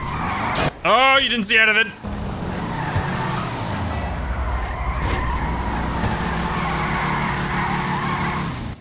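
A San Andreas Autos car in GTA 5 drives with a steady engine rumble and a long tire skid, following a brief burst of speech at the start.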